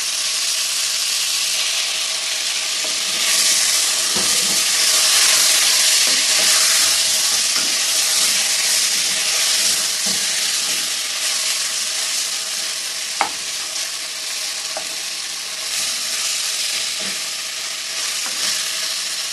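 Pork ribs frying in a pan, a steady loud sizzle with scraping as they are stirred and turned, one sharp clink near the middle and no voices.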